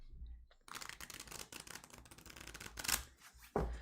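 Playing cards are shuffled in quick riffling bursts, close and crisp, with a short snap at the end.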